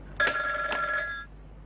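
A telephone rings in an auto shop office, a single bright electronic trill of about a second with two pulses, clear and fairly close, then fading out.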